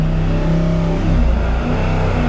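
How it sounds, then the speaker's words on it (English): A Holden 308 V8 with a Quadrajet carburettor revs hard on a dyno, a loud, close, continuous engine roar with rumbling induction noise and shifting pitch. "But listen to that quadrajet."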